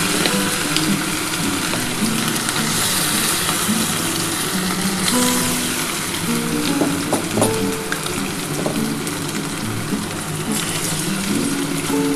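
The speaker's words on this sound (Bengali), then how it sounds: "আমি ভেজে নিই একটা একটা করে" Chili chicken pieces fry in hot oil for a special Bengali New Year dish, a steady dense sizzle running unbroken and fairly loud throughout, with faint clinks of utensils and no talk.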